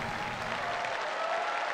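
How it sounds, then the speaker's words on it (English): Crowd applause from a video game, a steady dense wash of clapping held at an even level for under two seconds, with no voices over it. "They're all clapping for me."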